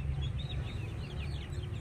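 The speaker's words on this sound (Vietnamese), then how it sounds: "Đây chủ cũng nuôi một số gà đây nữa nè" Chickens in a simple backyard coop behind a Vietnamese garden house give soft, scattered clucks and chirps over a low steady rumble of ambient noise.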